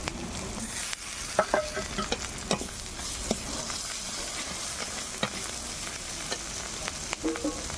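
Three chillies fry in a kadai, giving a continuous close sizzle and hiss broken by sharp stirring clinks and scrapes.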